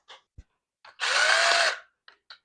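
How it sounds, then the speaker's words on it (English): A cordless power drill from a tool kit whirs once at high speed for about a second when its trigger is squeezed, loud and close, framed by a few faint clicks and handling taps in otherwise quiet surroundings. "So you can use this with the drill bits"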